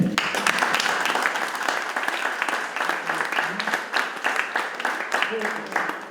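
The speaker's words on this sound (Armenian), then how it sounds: "Սա իր համար եմ ասում, ծափահար է" Audience applause fills a concert hall at an event dedicated to the Narekatsi Art Union, honoring pianist Alexei Lyubimov's birthday. Dense, steady clapping from many hands continues loudly for about six seconds without a break.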